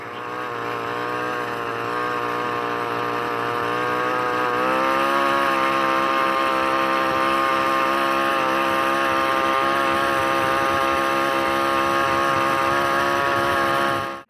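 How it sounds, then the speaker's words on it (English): A small two-stroke engine on a vintage-style motorized bicycle with friction drive runs loud and close, holding a steady buzzing drone that rises slightly in pitch partway through and then stays high until it cuts off. "look at that little motor go, man"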